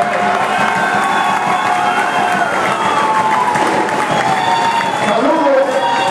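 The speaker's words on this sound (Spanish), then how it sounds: "Un aplauso para mi amigo Cordero" Crowd applause and cheering at a PRI political rally in Iguala, greeting a party figure introduced from the stage; steady, dense clapping fills the whole stretch with voices mixed in, loud and close.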